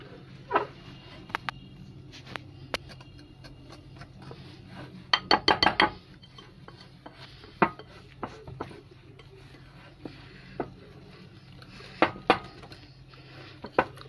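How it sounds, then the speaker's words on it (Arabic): Chocolate cake batter is stirred in a bowl with a wooden spoon or whisk: sparse, close clinks and knocks against the bowl, with one quick rattling burst of strokes midway and quiet pauses between. "هنقلب بقى كده بالراحه. عندك معلقه خشب قلبي، عندك مضرب زي ده قلبي"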